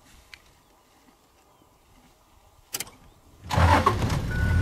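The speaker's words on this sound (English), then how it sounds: "I'm going to start my engine." A safari vehicle on a South African game reserve at Thornybush: a short clunk, then the engine cranks and catches, running loudly and steadily through the final second in the open bush.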